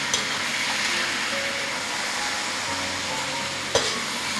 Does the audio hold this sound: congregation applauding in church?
no